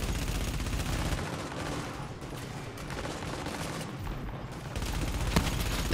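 Sustained gunfire from the shooter game The Division in a power plant firefight, a steady rattle of rapid shots at moderate loudness filling the whole stretch, with a heavier burst near the end.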